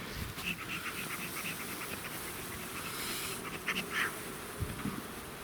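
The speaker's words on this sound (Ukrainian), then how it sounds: "тут теж бджоли цілий вагон" Honey bees swarm densely around an opened hive, a continuous loud buzzing drone close at hand, with occasional nearer bees passing and some handling noises.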